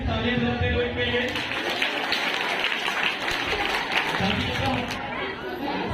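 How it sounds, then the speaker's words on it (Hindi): An audience at a school general-knowledge quiz competition applauds for the participants, with sustained dense clapping and crowd chatter filling the space throughout. "तालियां बजाते हुए इनके लिए।"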